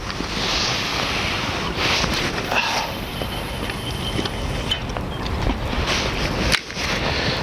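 Wind gusts over a lakeside fishing spot, giving a continuous rushing roar with buffeting on the microphone that swells and dips, plus a sudden brief drop near the end.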